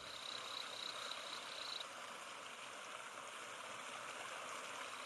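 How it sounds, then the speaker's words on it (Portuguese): Continuous broadband roar of a waterfall in Brazil's Atlantic Forest, steady and enveloping, with a faint high-pitched chirping tone briefly audible at the start. "o rugido constante da catarata"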